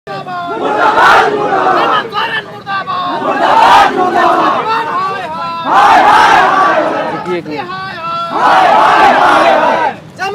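Crowd of JTET exam candidates at a protest march outside the state assembly, chanting slogans in loud, rhythmic unison bursts roughly every two and a half seconds, with crowd noise filling the gaps.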